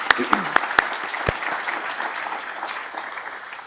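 Applause from a staff audience at a fall semester in-service program, opening with a few sharp separate claps before settling into steady, moderate clapping that carries on evenly to the end.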